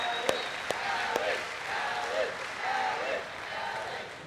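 A church congregation applauds and cheers in a broad, steady wash of clapping and voices, with a few sharp claps at the start, while someone talks over the crowd.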